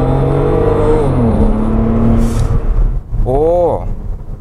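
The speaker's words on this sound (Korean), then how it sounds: "다시 한번 100km까지 가속을 해볼게요" A car speeding up hard to 100 km/h in sport mode, its engine note climbing steadily in pitch and dropping at gear changes, loud and close, with a voice speaking over the later part.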